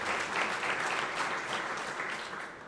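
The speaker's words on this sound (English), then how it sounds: "That does deserve a round of applause." An audience at a Dallas city news conference breaks into steady applause, a dense wash of many hands clapping at moderate volume that holds throughout and eases slightly at the end.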